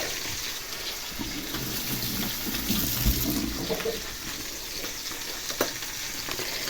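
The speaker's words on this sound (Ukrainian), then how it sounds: "Обсмажую сільника, зараз підсолю." Food fries in a pan on a home stove, a close, steady sizzle with occasional stirring clatter and crackles throughout, no talking.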